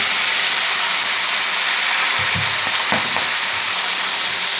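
Malabar spinach flowers and potatoes sizzle steadily in a pan with turmeric, a loud continuous frying hiss with a few soft stirring knocks partway through.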